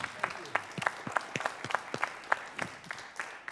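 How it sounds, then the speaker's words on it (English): Applause from a TEDx event audience in Luxembourg City, heard as fairly sparse, irregular claps at moderate distance. No voices are heard over it. "one final round of applause the speakers are going to give to you"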